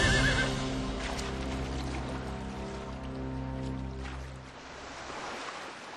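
A stallion whinnies loudly at the start, followed by a steady low droning wash like surf or rushing water filling the rest, with no voices.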